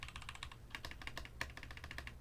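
Fast, crisp clicking of keys on a Keychron K2 mechanical keyboard, with quick uneven bursts of close keystrokes over a low background hum.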